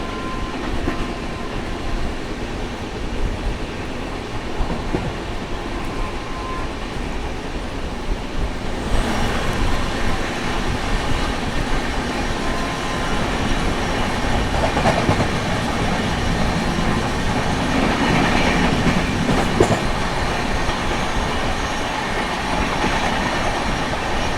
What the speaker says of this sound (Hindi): रामनगर बांद्रा सुपरफास्ट एक्सप्रेस से हमारी क्रॉसिंग होने जा रही है।